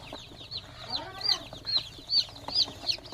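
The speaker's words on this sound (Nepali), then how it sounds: "मेरा चुजा पुरा कुदिरहेका छन् गाइस।" Day-old local chicks on a poultry farm peep in a steady run of high, thin chirps, about two or three per second, close and clear over a faint background hum, with no talk.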